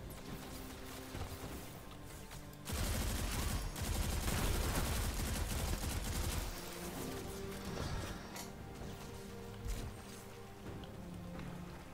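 Enemy gunfire in the Destiny 2 video game, a dense burst of rapid shots that swells loud for a few seconds before settling into steadier, quieter firing under game noise.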